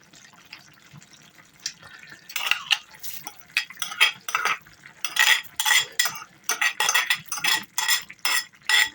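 Washed rice is tipped into a pot of Hungarian goulash, giving a run of wet pattering, scraping and metal-on-pot clinks in bursts, close and without talk.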